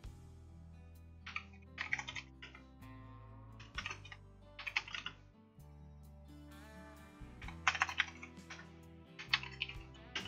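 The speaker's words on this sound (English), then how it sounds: "Let me type it." Bursts of computer keyboard typing, with quick clusters of key clicks and pauses between, sitting over steady low tonal music in the background.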